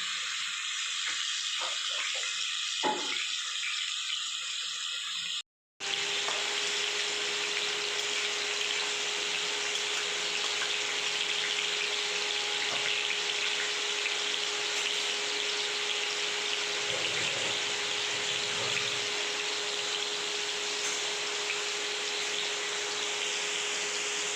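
Dried red chillies and whole cumin sizzle in hot oil, a steady dense frying hiss that carries on close and loud after a short clatter at the start.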